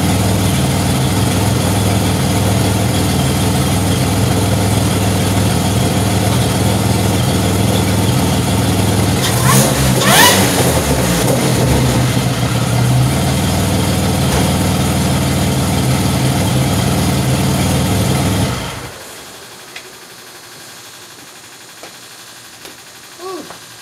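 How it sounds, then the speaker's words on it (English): A warmed-up car engine fitted with a ZZP XPZ cam idles loudly and steadily up close, rises in one quick rev partway through, then settles back before abruptly cutting to near silence with a few faint knocks. "I'm gonna do a little rev for you guys. It's nice and warmed up"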